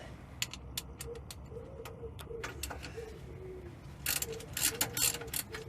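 A ratchet undoes nuts on the track rod ends of a Land Rover Discovery 300TDI, giving quiet rapid clicking bursts at close range, with pigeons cooing faintly in the background.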